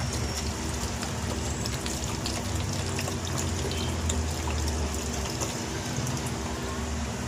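Water pours and splashes steadily into an air cooler fan's water tank, a continuous trickling rush with faint background hum and no talking.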